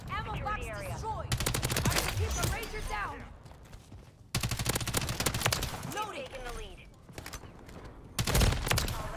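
Rapid automatic gunfire from a Bal 27 rifle in Call of Duty MW3 rattles in several sustained bursts, loud and close, while a voice talks over the shooting.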